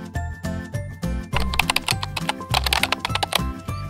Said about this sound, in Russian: набирать слепым десятипальцевым методом, не глядя на клавиатуру компьютера